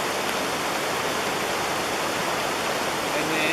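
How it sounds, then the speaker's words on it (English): Heavy rain pours down steadily, a dense, even hiss that stays loud and unbroken throughout. "it just started raining so much harder"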